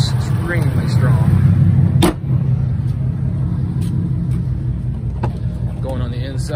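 A 2011 Ford Mustang GT Premium with six-speed manual, intake, exhaust and tune, engine running steadily with a low rumbling drone while driving, a person talking over it.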